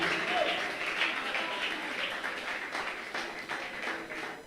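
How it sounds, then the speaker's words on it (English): An audience claps for Patrick Henry Solomon, a governorship candidate for Cross River State, at a civic session in Calabar. Steady, dense applause continues throughout, with some voices mixed in. "Is that how you clap for the next governor of Cross River State"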